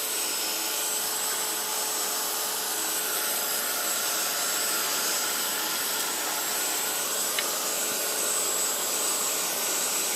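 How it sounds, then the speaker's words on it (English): An embossing heat tool blows hot air to dry a card in a steady, continuous whooshing hum that stays close and even throughout, with no talk. "with my heat tool. I just dry it."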